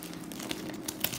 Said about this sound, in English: Come on, let me try to open it without scissors.